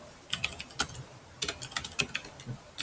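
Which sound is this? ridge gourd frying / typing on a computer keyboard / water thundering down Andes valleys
typing on a computer keyboard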